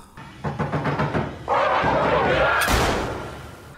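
Gunshot in a horror scene, fired at a locked bedroom door in an old house: a sudden sharp broadband blast near the end, following knocking-like thuds and a sustained dramatic swell of noise, loud and close.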